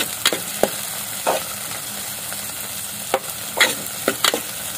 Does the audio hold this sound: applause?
no